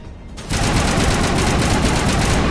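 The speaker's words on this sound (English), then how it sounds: "I'm going to get my assault rifle out." Mass Effect assault rifle fire erupts into a loud, continuous rapid burst of automatic shots after a brief quieter moment, sustained and close.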